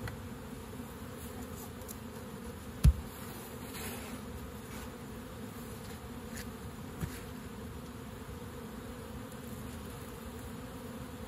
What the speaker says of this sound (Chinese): 有啊，蜜蜂有上来